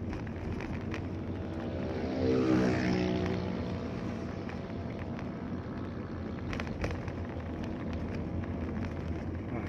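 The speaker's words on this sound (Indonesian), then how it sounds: "Sekarang kita coba dipakai gigi 3, nanti kita coba kick down apakah dia langsung responsif atau enggak ya" A 2005 Mitsubishi Galant sedan pulls in third gear under kick-down, its engine a steady close drone that swells briefly, with road and wind noise.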